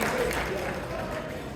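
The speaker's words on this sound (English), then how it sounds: "Give them a round of applause." Dense applause from an audience at a Chicago Islamic organizations anniversary event, a steady wash of many hands clapping that holds evenly through the short stretch.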